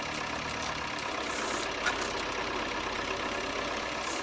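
A Nuffield tractor engine idles steadily with a low, even rumble and no break, a constant mechanical drone with no voices.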